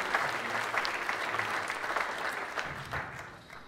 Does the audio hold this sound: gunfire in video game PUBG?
no